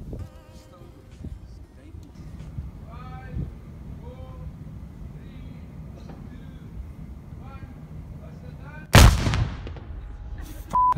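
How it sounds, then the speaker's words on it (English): A single loud noon gun cannon blast in Cape Town, South Africa booms near the end, sharp and powerful with a rumbling tail, after a stretch of quiet outdoor ambience with faint birds. "part of this base is still used to fire the noon gun for Cape Town"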